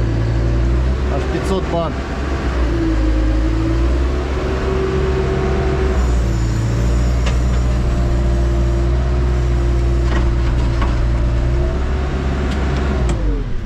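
An excavator's engine runs at set revs while its hydraulics are pushed against a stop, giving a loud, steady, close drone with a faint rise and dip in pitch, and someone talks over it.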